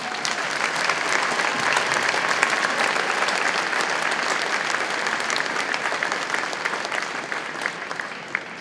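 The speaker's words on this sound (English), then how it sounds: "Let's give them a huge round of applause." Sustained applause from a high school band concert audience, steady dense clapping that holds at an even level throughout before easing slightly at the end.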